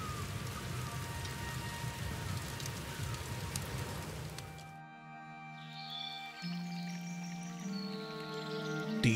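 Steady heavy rain pours in a storm in the Whispers of a Machine video game, a dense hiss of drops that suddenly cuts out midway, leaving quiet ambient tones and soft musical notes.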